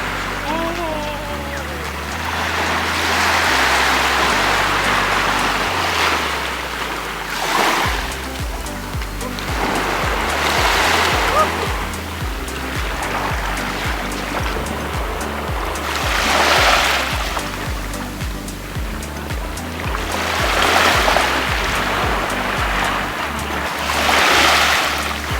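Sea waves breaking on a beach at Playa Pino, Bagac, Bataan, coming in repeated surging washes every few seconds, with people talking and shouting over the surf.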